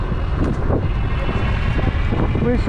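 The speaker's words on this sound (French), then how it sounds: "on a le vent les amis" Steady low rumbling wind buffeting the microphone throughout, while stopped with a Rovoron R7 Pro electric scooter, with a voice briefly rising near the end.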